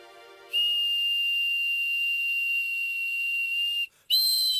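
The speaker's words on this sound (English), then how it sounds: "That's why I made these whistles for them." A homemade toy whistle blown in one long, loud, steady shrill tone lasting about three seconds, then a brief gap and a second blast starting.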